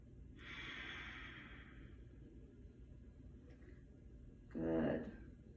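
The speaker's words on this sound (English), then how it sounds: "And breathe here." A slow, audible breath during a yoga pose: a long soft exhale of a couple of seconds, then a stronger, noisier breath near the end, quiet and close with no talking.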